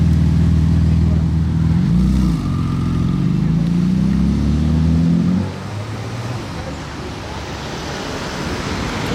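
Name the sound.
Porsche GT2 RS exhaust with valves open, revving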